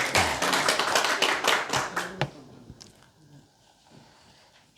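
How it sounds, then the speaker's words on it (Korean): A church congregation claps in a burst of fairly loud, distinct hand claps for about two seconds, then the sound thins to a few scattered taps and quiet room noise. "박수 한번 하시겠습니다."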